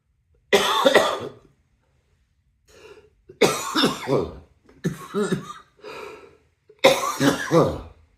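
Several harsh coughing fits, close to the microphone, separated by brief pauses, with a faint breath in between.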